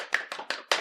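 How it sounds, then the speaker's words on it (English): Brief applause of a few quick claps, four distinct sharp hand strikes spaced evenly, fairly faint and close, with no talk. "Round of applause."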